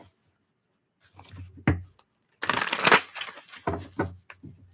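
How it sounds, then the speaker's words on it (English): Tarot cards being shuffled by hand: a few short riffling bursts and soft papery slaps, close and fairly quiet, separated by brief pauses. "Last shuffle."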